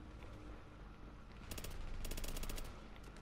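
Gunfire from The Division video game sounds faint and distant, with short bursts of rapid automatic shots over a low background rumble.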